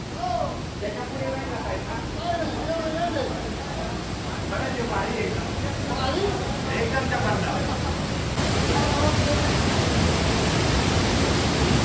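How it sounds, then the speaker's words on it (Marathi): Thoseghar waterfall near Satara pours down beside a mountain cave, making a steady, loud broadband roar throughout that swells a little louder toward the end, with voices faintly audible beneath it early on. "प्रचंड वेगाने धबधबा कोसळतो"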